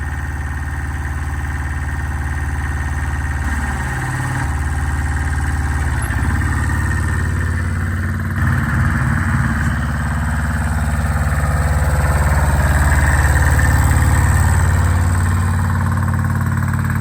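A 1979 Kubota L185 diesel tractor idles nearby, giving a loud, steady low rumble with slight shifts in tone. No one speaks.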